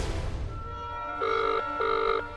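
A telephone rings in a TV drama scene, two clear electronic bursts of ringing in a regular pattern, loud and close, with no talk over them.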